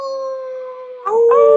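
Human voices imitate wolf howls, a sustained wavering tone from several people that bends and rises near the end, loud and close, lasting under two seconds.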